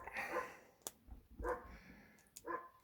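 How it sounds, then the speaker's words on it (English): A dog barks faintly somewhere nearby, three or four short, spaced woofs at a low level in an otherwise quiet room. "Sorry about the doggy, but it's a doggy."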